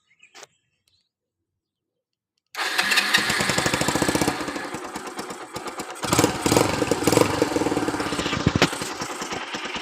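A Kawasaki Boss 175 motorcycle engine starts after a brief silence and settles into a loud, steady idle with some revving, heard close.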